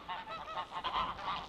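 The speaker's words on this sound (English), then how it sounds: "the geese are all coming into land on the lake. You can hear them." Dozens of geese honk in a rapid, overlapping chorus as they come in to land on a lake, the calls faint and a little distant but continuous.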